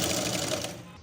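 A sewing machine stitching the neckline of a suit, a quick continuous mechanical rattle of the needle running for about a second before stopping.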